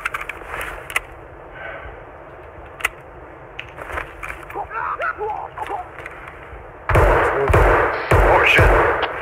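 Escape from Tarkov gunfire comes as scattered sharp single shots over a steady background, followed by a denser, louder burst of firing near the end, with voices talking in between.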